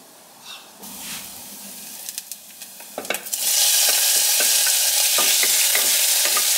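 Onions frying in a pan break into a loud, steady sizzle after a few seconds of quieter clinks and stirring, with occasional scrapes over the constant hiss.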